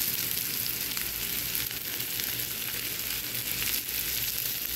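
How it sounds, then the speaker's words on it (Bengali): Sliced onion fries in hot oil toward light brown, a steady dense sizzle that stays even and close without pause or voices. "পেঁয়াজটা আমি হালকা বাদামি করে ভেজে পটলের উপর দিয়ে দিব"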